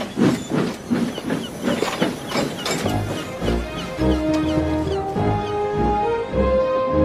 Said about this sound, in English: And he chuffed proudly out of the docks.